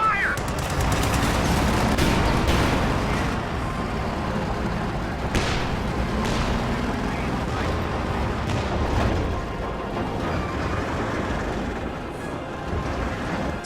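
Dense, continuous battle din from a Sherman tank taking fire in a strategy video game, with overlapping gunshots and booming impacts in a loud, unbroken wash, plus occasional sharper cracks standing out.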